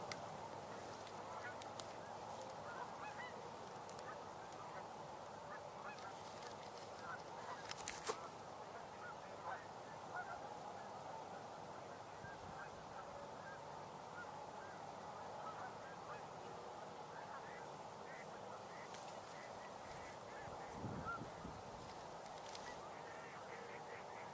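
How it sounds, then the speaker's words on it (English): Mallard ducks call in a flock, a dense continuous chorus of honking quacks heard at middle distance, steady throughout with a few louder bursts and no talking. "Those are the mallards making that noise."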